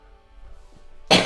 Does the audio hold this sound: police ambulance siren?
no